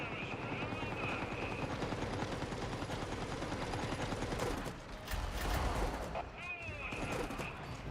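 Enemy gunfire in the video game Warhammer 40k Darktide rattles steadily through the scene in dense automatic bursts, with heavier impacts near the middle and scattered mechanical clatter in a busy, loud combat mix.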